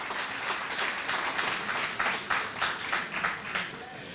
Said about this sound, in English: Give Omar a round of applause, please.